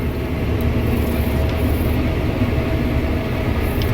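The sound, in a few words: combine harvester running during harvest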